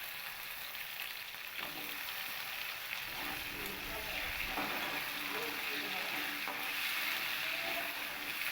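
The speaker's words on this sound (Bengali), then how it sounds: "ওই একই তেলের মধ্যে আমি আলু আর গাঁটি কচু বা কচুরমুখী এইগুলো আমি লাল করে ভেজে তুলে নেব।" Potatoes and taro corms fry in hot oil left from frying eggplant, giving a steady, close, even sizzle that runs unbroken throughout with no talking.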